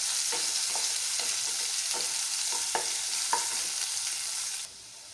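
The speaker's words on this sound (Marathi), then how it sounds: "कांदा आपल्याला खूप छान असा फ्राय होईपर्यंत त्याला छान फ्राय करायचा आहे लालसर होईपर्यंत फ्राय करायचं" Onions fry and sizzle in a pan for okra fry, with a steady hiss and several sharp scrapes of a spoon stirring, close up, before the sizzle drops suddenly near the end.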